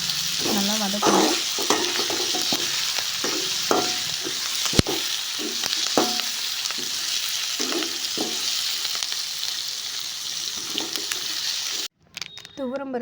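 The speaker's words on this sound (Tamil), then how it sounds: "முருங்கைக்காயும் ஒரு 2 நிமிஷம் 3 நிமிஷம் நல்லா வதக்கணும்" Drumsticks for a mango and drumstick sambar sautéing in hot oil, a continuous near sizzle broken by repeated scraping stirs and light clinks of a spoon on the pan, cut off abruptly near the end.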